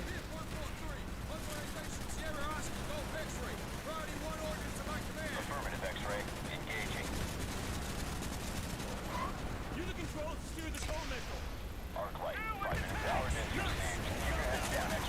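Gunfire in a classic Call of Duty game, scattered shots and bursts mixed into a busy combat soundscape, heard under someone talking over much of it.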